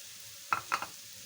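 A spoon stirs boiled macaroni with green food colouring in a bowl, giving three short, soft scraping clicks close by and no voices.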